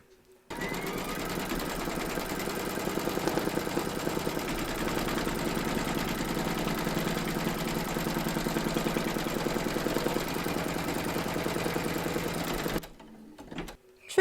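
An embroidery machine stitching an outline through batting taped over a hooped appliqué: a fast, steady mechanical whirring and clatter of the needle that runs continuously for about twelve seconds, then stops abruptly into near silence.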